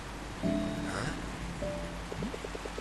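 Steady rain hisses throughout a scene in the game Until Then, with soft tonal game sounds and a few light chimes layered over the constant wash.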